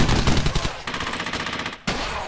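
Enemy gunfire in Brothers in Arms: Hell's Highway: a sustained, rapid automatic stream of loud shots that cuts out abruptly for an instant, then resumes.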